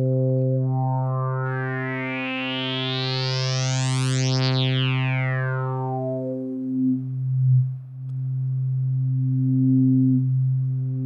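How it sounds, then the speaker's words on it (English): Modular synthesizer tone with the filter resonance turned up: a steady buzzy drone while a sharp resonant peak sweeps up to a whistling high and then falls back down, with a few wobbles in level near the end. "Let's bring up some resonance here."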